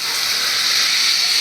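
A small splash of water poured into a hot cooking pan bursts into a loud, steady steam hiss that holds evenly throughout, close up with no voices.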